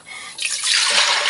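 Water pours into a pot for cooking, a bright close splashing rush that starts softly and quickly swells into a steady full stream.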